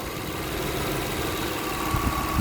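A Toyota Kluger V6 3Fe engine idles with a cylinder misfire, a steady close-up rumble that turns slightly uneven with a few low thumps near the end.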